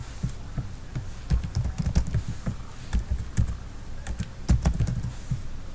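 An address being typed on a computer keyboard: close, irregular clicking keystrokes, sometimes in quick runs, over a low steady hum, with no speech.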